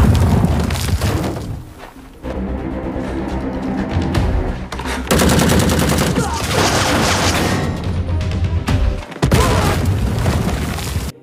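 Gunfire and booms from a film battle against soldiers, sustained and loud, with dense bursts and heavy impacts running almost without a break.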